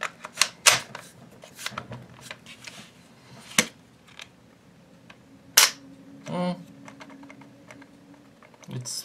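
A GSG-16 .22 rifle's trigger clicks dry without a magazine fitted, sharp scattered mechanical clicks and handling clatter, fairly close, with a few louder snaps among them.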